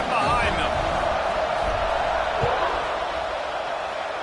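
A broad, sustained roar of a stadium crowd in a college football video game matchup between LSU and Georgia, steady and loud throughout with a commentator's voice over it.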